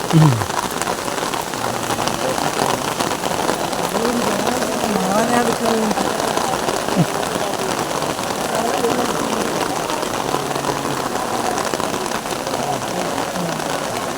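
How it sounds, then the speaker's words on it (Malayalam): Steady rain falls on surfaces at Kottiyoor temple, a dense, even patter that runs unbroken throughout, with faint voices and a low engine rumble underneath. "എത്ര കൃത്യസമയത്തല്ലേ മഴ."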